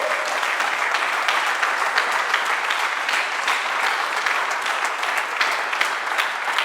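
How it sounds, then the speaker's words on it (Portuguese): A church congregation claps together in steady, dense applause that holds at a loud level throughout, with no voices standing out. "Dê uma salva de palmas para Jesus."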